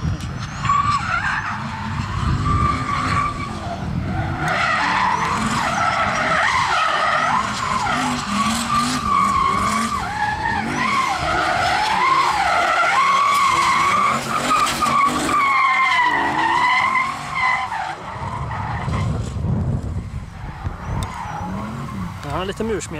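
A twin-turbo 740 V8 car slides and skids with loud, sustained tire squeal and engine roar at a Hultsfred Breisladden 2021 elimination qualifier, continuous and close for the whole stretch, with a commentator talking over it.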